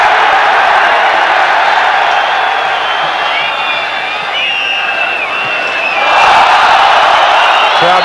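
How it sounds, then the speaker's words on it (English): A football stadium crowd at a 1995-96 UEFA Cup tie between Lyon and Nottingham roars and calls out in a continuous loud wash, swelling again toward the end, with a commentator's voice speaking over it. "Crowd calling for everything now."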